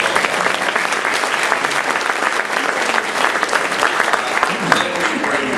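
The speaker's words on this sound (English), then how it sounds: "Could we give them a round of applause?" Round of applause from guests at a dialogue and friendship dinner, loud sustained clapping from a large audience filling the room evenly from start to finish, with only faint crowd murmur beneath.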